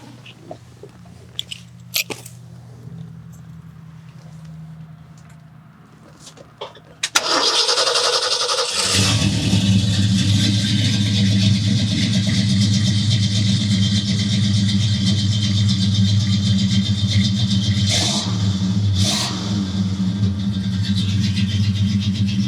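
A 1967 Mustang Fastback with a fuel-injected 390 big-block V8 and four-speed cranks after a quiet lead-in, then catches and settles into a loud, steady rumbling idle through dual stainless exhaust tips, heard up close.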